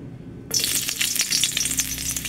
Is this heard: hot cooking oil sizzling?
yes